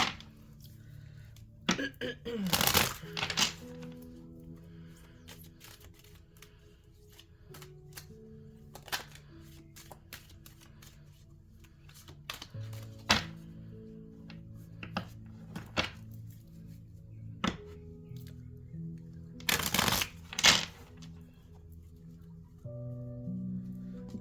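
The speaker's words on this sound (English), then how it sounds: "Shuffle this again." Tarot cards are shuffled and riffled in several quick bursts, with quiet handling in between, close and fairly soft.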